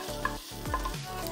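Lentils that were boiled for about an hour and a half are tipped into a hot pot and stirred, making a close, steady sizzle with soft scraping and shifting.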